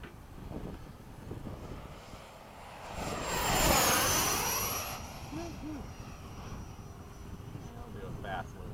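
An F-104 jet fighter makes a high-speed low pass, rising from a distant roar to a loud, rushing peak around the middle, then fading away, with people talking and exclaiming in the background.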